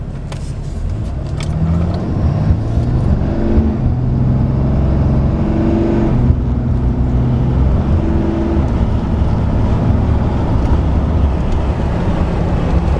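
A 2014 Ram pickup with a Cummins diesel engine and automatic transmission accelerates at full throttle, a loud, deep engine drone with rising and shifting tones through gear changes, close up inside the cab.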